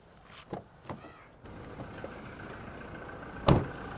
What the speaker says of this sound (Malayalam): അപ്പോൾ നമ്മൾ ഇപ്പം വണ്ടി സ്റ്റാർട്ട് ചെയ്തിട്ടുണ്ട് എൻജിൻ്റെ സൗണ്ടാണ് കേൾക്കുന്നത്